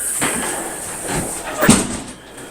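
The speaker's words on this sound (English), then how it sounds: "Coming in the back door." The back door of an old house opens and shuts, a few dull knocks and a firmer thud near the middle, heard close over faint background noise.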